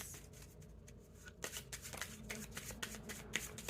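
A deck of playing cards is shuffled close up: softer riffling at first, then a louder run of rapid flicking and fluttering card slaps.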